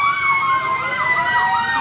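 A fire truck siren at a fire in Quezon City, Philippines, wails loudly and close, its pitch sweeping up and down in steady cycles, with a steady high electronic tone layered over it.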